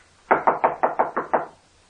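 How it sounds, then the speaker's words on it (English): Seven firm, evenly spaced knocks on a door, close and hollow-sounding, in a steady rhythm followed by quiet. "He knocked."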